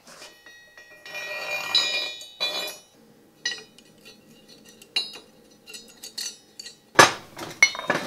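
A metal deep socket and a lubricated thrust bearing are handled on a vise build, giving scattered metallic clinks, rattles and sharp taps, close and irregular, with a bright ringing clank near the end.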